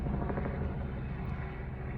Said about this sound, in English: You hear the chopper?